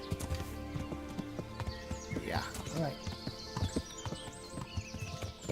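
Steady clip-clopping of horse hooves in Kingdom Come: Deliverance, with a brief whinny, a short spoken word and background music layered over the trotting.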